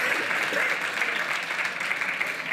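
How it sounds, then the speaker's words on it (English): An audience applauds after an interview on stage, producing a dense, continuous wash of clapping that stays loud and even across the short stretch. "Give a round welcome of applause to Simon Sinek."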